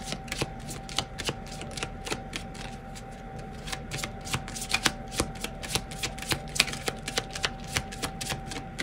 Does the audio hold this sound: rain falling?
no